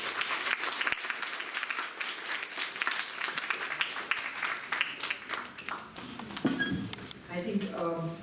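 An audience applauds for Rotary at an inter-school quiz event, a sustained wash of clapping from many hands that fades as a voice starts speaking near the end.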